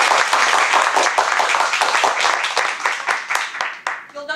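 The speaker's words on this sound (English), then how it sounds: "So now we're going to clap Susanna," An audience at a Toastmasters meeting claps, a dense, lively round of applause from many hands that stays loud before thinning out at the end, with a voice briefly audible as it fades.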